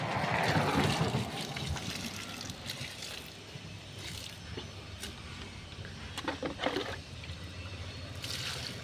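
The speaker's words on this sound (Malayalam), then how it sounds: "ഇങ്ങനെ കുറേശ്ശെ കുറേശ്ശെ ഒഴിച്ചുകൊണ്ടിരിക്കുക" A thin, steady trickle of liquid is poured little by little into a dug hole in soil, faint and close, with soft wet splashes now and then.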